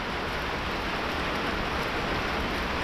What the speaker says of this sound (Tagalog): Dito muna tayo kasi malakas yung ulan ba.